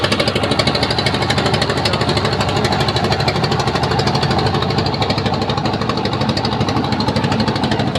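A loud, close, rough engine roar with a fast steady chugging pulse, as a river speedboat runs without letup, no voices.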